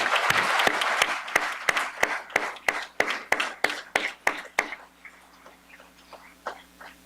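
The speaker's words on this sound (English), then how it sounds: "let's give him a round of applause" Applause for a Sergeant Major at an Arkansas National Guard change of command ceremony: a run of sharp, evenly spaced claps that sound like a few hands close by, stopping after about five seconds and leaving quiet room tone.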